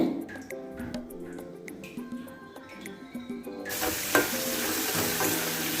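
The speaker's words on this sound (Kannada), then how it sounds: "ಗೋಲ್ಡನ್ ಬ್ರೌನ್ ಆಗೋ ಕಲರ್ ಬರೋ ತನಕ ಇದನ್ನು ಸ್ವಲ್ಪ ಸಣ್ಣ ಉರಿಯಲ್ಲಿ ಕಾಯಿಸಿ" French fries deep-frying in oil over a low flame, cooked hotel-style until crisp, give a faint crackle with a few clinks at first, then a loud, steady sizzling hiss.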